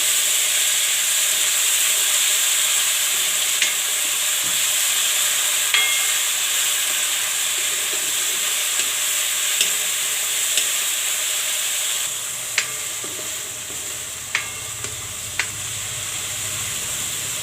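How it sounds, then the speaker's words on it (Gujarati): Fenugreek greens sizzle and hiss steadily in a hot cooking pan for potato curry, with occasional light scraping clicks from stirring and no talking. "ભાજીને આપણે મિક્સ કરી લઈશું।"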